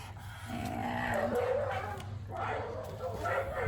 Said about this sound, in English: these dogs are going insane right now